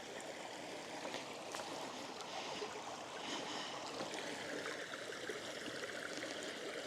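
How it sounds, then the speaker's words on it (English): The River Kent flowing through Kendal, a steady broadband rush and babble of water heard close and continuous, with faint trickling detail and no talk. "this is the River Kent. I'm near in Kendal."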